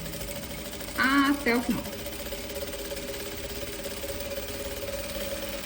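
Sewing machine stitching a pocket, one short burst of rapid mechanical whirring for under a second with a brief second run, over a steady background hum while someone talks.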